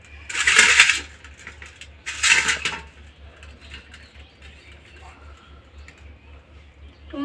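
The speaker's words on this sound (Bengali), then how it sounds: "এবারে আমি কেটে নেব। দেখুন তাহলে কীভাবে কাটছি।" A knife cuts tomatoes on a board in two crisp, bright bursts of chopping, followed by quieter handling sounds over a low steady hum.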